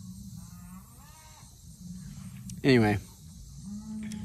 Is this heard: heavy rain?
no